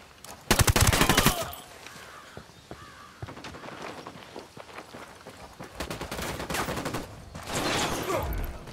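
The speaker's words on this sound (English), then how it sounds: "Opening fire." Gunfire in the Ghost Recon Wildlands video game: a loud burst of rapid automatic fire opens, followed by scattered shots and further bursts of fire, with quieter game ambience between.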